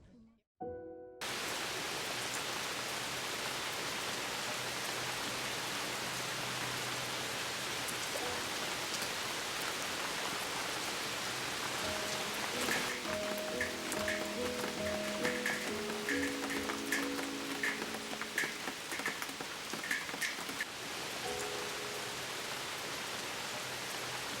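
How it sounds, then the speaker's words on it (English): Steady rain pours down for over twenty seconds as a close, even hiss of drops on surfaces, with faint tonal sounds and scattered clicks rising through the middle of the shower. "Finally, some beautiful rain."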